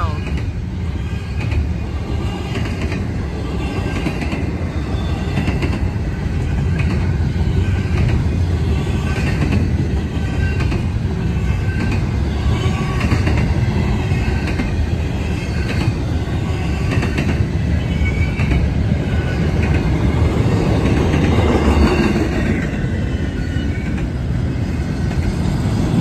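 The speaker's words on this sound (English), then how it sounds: "This train seems to be slowing down." A Union Pacific freight train slowing down rolls steadily past at close range, a continuous loud rumble of rail cars with wheel clatter and faint squealing throughout, with no talk over it.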